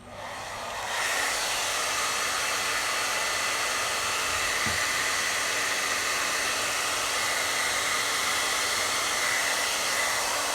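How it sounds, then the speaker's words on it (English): A hair dryer switches on and blows continuously at steady loud volume to melt crayons for a painting, a constant whooshing roar with no talk. "So the sound is about to get pretty awful for a little bit because I've got to turn my hairdryer on."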